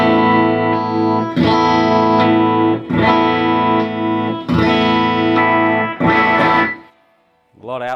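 Ibanez Prestige electric guitar played through effects, strummed chords ringing with distortion and chorus in four or five loud sustained bursts as the pickup selector is flipped between positions, ending in a short bent note.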